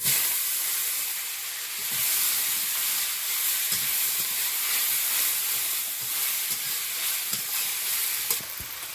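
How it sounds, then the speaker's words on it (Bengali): Water spinach dropped into a wok with a little oil and ginger-garlic paste, giving a steady, close hissing sizzle with light stirring scrapes throughout and no talking. "কড়াই অল্প একটু তেল আছে আর একটু আদা রসুন বাটা দেবো তেলে এই শাকটা এর ভিতরে দিয়ে দেবো"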